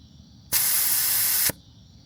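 A Bunker Industries tire deflator releases air from a tire in a single loud, steady hiss lasting about a second, starting and stopping abruptly.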